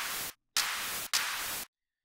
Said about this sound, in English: You've got this brush, which gives you that really drawn out white noise type sound.